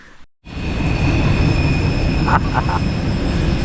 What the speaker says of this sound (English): Remember what I told you about the trains being annoying after dark?